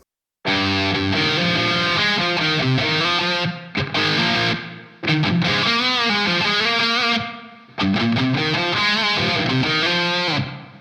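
Electric guitar played through a Paul Reed Smith MT15 amp with only reverb on, strummed chords ringing out in three loud phrases separated by brief pauses, with a slightly gritty tone.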